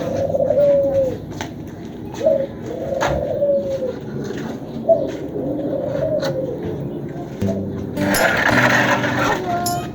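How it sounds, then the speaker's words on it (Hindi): Pet pigeons and other birds coo repeatedly after being let out, with soft rolling calls recurring every second or so at close range. Near the end comes a brief burst of rustling, flutter-like noise. "आज हम दोनों मिलके सारे बर्ड्स को खोलेंगे और खेलेंगे इनके साथ।"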